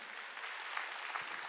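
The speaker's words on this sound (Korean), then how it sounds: "내 자손들이 목사가 된 걸 여러분 박수 치라." A church congregation at a Korean Wednesday worship service claps together in a dense, even burst, steady and moderately loud across the short span with no speech over it.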